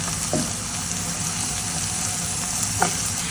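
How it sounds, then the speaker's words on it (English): Celery and onions sauté in a pan with a steady, even sizzle and faint stirring scrapes, close and continuous without talking. "So I'll saute this."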